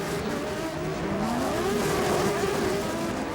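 Formula Renault 3.5 race cars getting underway at Le Mans in 2005, a dense, loud wash of several engines revving and rising in pitch together, with faint tire noise and no talking.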